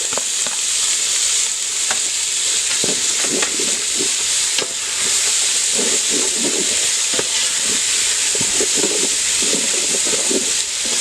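Tomatoes and green chillies for a home-made chicken dum biryani sizzle and fry in a pan, a steady hiss broken by scattered stirring scrapes, close and fairly loud with no talk.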